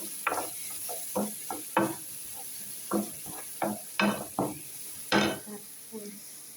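A spoon stirs empanada filling in a pan, with close, intermittent scrapes and clinks against the cookware and a faint sizzle underneath.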